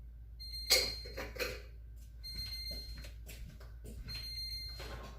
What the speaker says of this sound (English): Alright, there's our timer